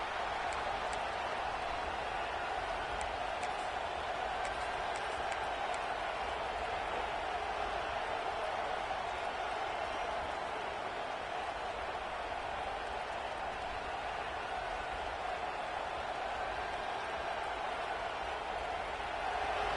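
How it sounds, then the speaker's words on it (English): Constant roar of a big stadium crowd cheering in the distance, an even wash of noise that never lets up. "This crowd bringing the energy and noise early."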